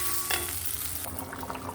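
Vegetables frying in a pan with salt added, a steady close sizzle with faint stirring scrapes, no talk.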